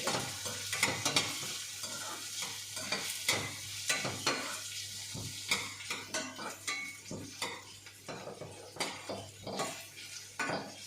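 Vegetables and mild chillies for kadamba chutney are sautéed in a pan over a medium flame. Close, steady sizzling runs under repeated rhythmic scraping and clinking of a spoon against the pan.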